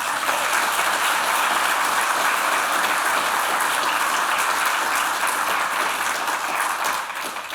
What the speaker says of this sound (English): I think this deserves a round of applause.